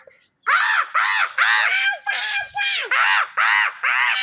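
Loud, close crow caws in a rapid series, harsh repeated calls one after another with barely a pause.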